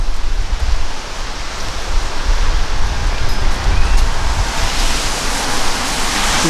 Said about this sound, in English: Been really battered the last couple of days with this wind